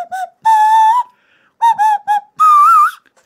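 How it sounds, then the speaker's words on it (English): A person whistles a short, wavering melody through the nose, a series of clear tonal notes in separate bursts with brief gaps, loud and close with no talk. "Of course, in my bag of tricks, I do have a nose whistle."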